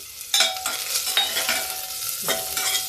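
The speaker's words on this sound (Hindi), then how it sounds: "देखिए जीरा महक रहा, प्याज डाल दिया मैंने।" Chopped onion sizzles in hot oil with cumin seeds for a matar gwar fali sabzi, with several stirring scrapes of a spoon against the pan over a steady close frying hiss.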